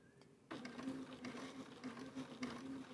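A sewing machine stitches steadily during controlled quilting, its motor humming continuously with a fast mechanical chatter, close and moderately loud after a quiet start.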